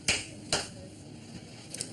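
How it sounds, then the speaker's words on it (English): Two sharp clapperboard claps on a film set, close and crisp about half a second apart, followed by faint fainter ticks near the end and quiet room tone. "We need to make the clappers go."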